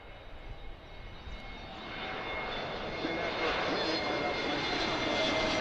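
A jet airliner engine at Philadelphia airport, seen from Fort Mifflin. Its roar swells steadily from moderate to loud as the aircraft nears, with a voice talking faintly at the start.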